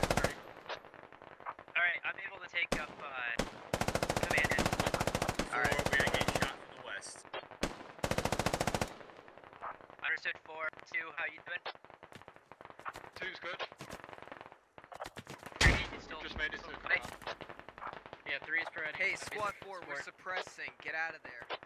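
Machine gun fire in the tactical shooter game Squad comes in loud sustained bursts and several sharp single shots between them, with players talking and reacting over the gunfire.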